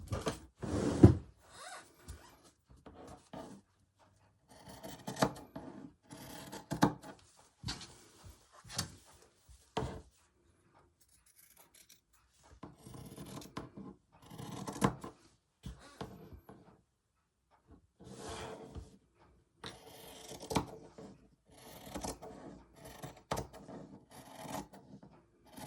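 Scissors snipping through fabric for a slow-stitch textile collage, heard as irregular bursts of rasping, scraping cuts separated by short pauses, close and fairly quiet.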